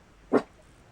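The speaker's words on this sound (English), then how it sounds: "She's barking." A dog gives a single short bark, close and fairly loud, then quiet follows.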